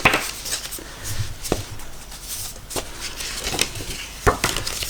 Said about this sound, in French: Je coupe à l'intérieur de ma marque.